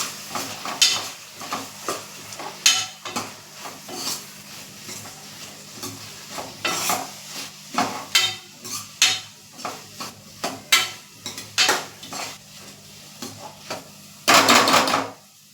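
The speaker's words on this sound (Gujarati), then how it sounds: "બે ચમચી કાશ્મીરી લાલ મરચું એડ કરીશું અને બરાબર મિક્સ કરી લઈશું" Kashmiri red chili being stirred into masala in a pan for dhaba-style palak sabji: repeated close scraping and clacking strokes of a spoon against the pan over a soft sizzle, ending with a louder burst of scraping.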